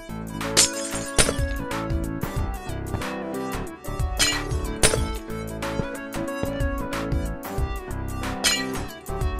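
Glass blocks in Minecraft are broken and placed again and again, giving a quick, steady run of crisp shattering clinks over continuous background music.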